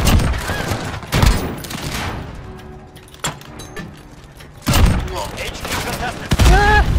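Gunfire and a grenade blast in the Modern Warfare beta, with bursts of shots and heavy impacts coming in waves over continuous game noise, loud and close, while several players talk over the action.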